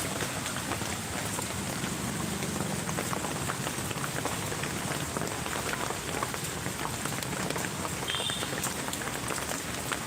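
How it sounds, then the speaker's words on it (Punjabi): Rain pours down steadily in a dense, continuous patter on surfaces, with a brief faint tone partway through. "ਬਹੁਤ ਹੀ ਜ਼ਿਆਦਾ ਬਾਰਿਸ਼ ਹੋ ਰਹੀ ਹੈ ਜੀ"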